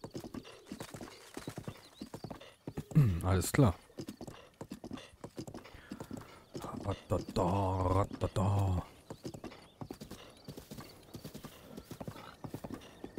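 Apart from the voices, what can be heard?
horse hooves, video game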